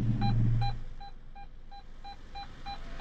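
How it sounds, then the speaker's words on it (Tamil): A car's reverse parking sensor beeps in a steady series of short, evenly spaced tones, about eight pips at a moderate pace, clear and fairly close over low background hum. "பீப்போடைய சவுண்டு இன்க்ரீஸ் ஆகுது,"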